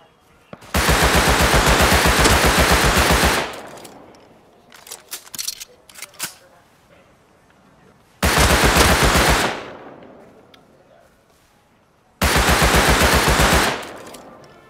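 Sustained bursts of automatic video-game gunfire, an MP5 or Tommy gun in a survival shooter, rattle loud and close in three long volleys, with scattered sharper shots and faint clicks in the gaps between.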